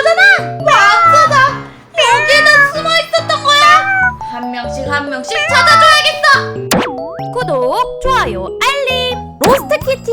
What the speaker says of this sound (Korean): 진짜 고양이 소리가 나